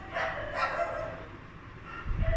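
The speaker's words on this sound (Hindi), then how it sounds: "कुत्ते भौंक रहे हैं।" Dogs bark repeatedly in the background, a few sharp yaps spaced apart and moderately distant, with a louder low thump near the end.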